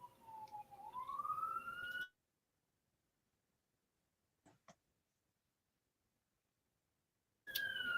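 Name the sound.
sirens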